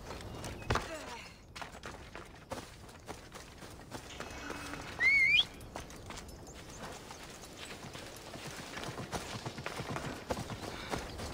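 Horse hooves clip-clop in a steady walking rhythm in Assassin's Creed Odyssey, moderately faint, with a brief whistle-like tone partway through and some background game sounds.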